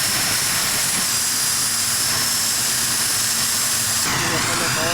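A Mi-8 helicopter's engines run loud and close at an airport, a dense roaring whine that changes pitch and intensity near the end, with steady tonal whistles.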